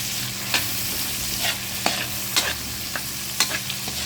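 Milkfish (bangus) frying in hot oil, a steady close sizzle with a low hum underneath and periodic scrapes and clinks of a utensil turning the fish.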